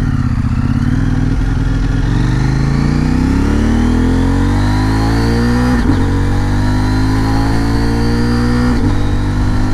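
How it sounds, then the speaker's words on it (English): A CFMOTO Ibex 800T motorcycle engine accelerating through gears with a quick shifter, loud and close, its droning pitch climbing steadily and dropping abruptly at each quick upshift, with wind noise throughout. "That's the quick shifter."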